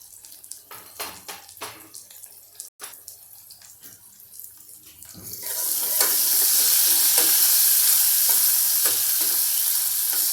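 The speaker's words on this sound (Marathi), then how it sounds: "आणि हा कढीपत्ता आता हे सगळं आपण छानपैकी सातळून घेऊया" Curry leaves, chopped green chillies and spices hit a hot pan for a green chickpea rassa, starting a loud, steady hiss of frying after a few quieter clinks and stirring knocks, with no talk.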